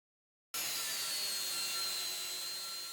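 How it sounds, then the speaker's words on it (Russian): Grinder working a welded seam on a steel boat leg, a harsh steady high-pitched grinding hiss that starts abruptly after half a second and holds evenly, close and loud. "Обрабатываем сварочный шов."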